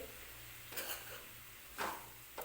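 Modak filling with cardamom powder stirred in a pan, making three quiet scraping strokes at uneven intervals over a low background hum.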